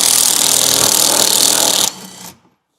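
Power tool with a socket grinding loud and close on a bolt stuck with red Loctite, hammering continuously before cutting off sharply and trailing away.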